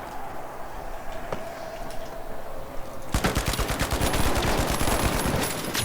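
Rapid automatic gunfire in the video game The Finals, quiet game ambience and a single shot at first, then a dense burst of rattling shots that fills the second half, loud and close.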